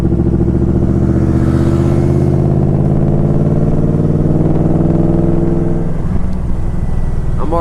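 A Yamaha Royal Star motorcycle cruises in overdrive at about 40 mph, its engine a loud, steady drone heard up close that shifts in tone near the end.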